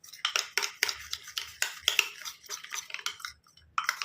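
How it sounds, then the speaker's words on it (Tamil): Fenugreek and milk mixture stirred in a bowl, a spoon clinking and scraping against the sides in quick, uneven strokes with short pauses, close and fairly quiet. "நல்லா கலந்து விட்டுக்கலாம்"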